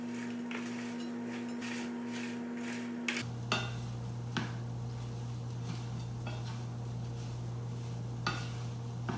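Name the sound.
stirring sweet potatoes into a veggie taco filling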